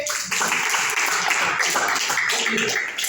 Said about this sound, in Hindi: वेरी गुड, तालियां उनके लिए